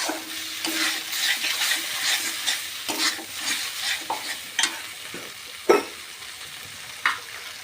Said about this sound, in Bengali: মশলাটাকে ভালো করে কষিয়ে নেবেন